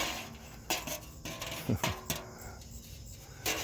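Metal clanks and clatters of a pie pan knocking about in a garden, a few sharp hits scattered over a background of outdoor hiss and rustling.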